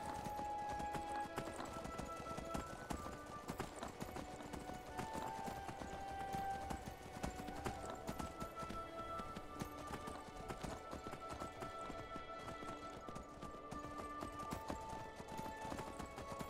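A horse gallops in Skyrim, its hooves drumming in a fast, continuous patter beneath a dense, even wash of game music and ambience that never lets up.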